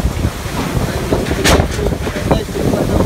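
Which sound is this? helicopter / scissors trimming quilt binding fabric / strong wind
strong wind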